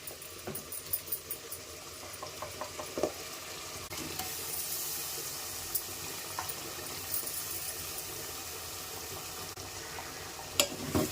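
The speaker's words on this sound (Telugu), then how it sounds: "మసాలా కూడా పచ్చి వాసన పోయేంత వరకు వేపుకోవాలి బాగా" Masala frying in a pan for Andhra-style prawn gongura curry, a steady soft sizzle with scattered crackles and spoon stirring taps, close and fairly quiet.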